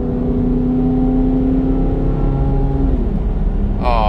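Chevrolet Corvette C8 Z06 engine pulls under acceleration, a loud steady mid-range drone with rising harmonic tones that level off and drop away near the end, running alone without talk.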